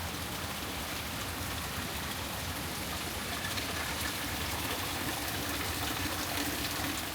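Water running from a small spring fed through a little irrigation pipe in Bali, a continuous even rushing and splashing that stays steady and fairly quiet throughout.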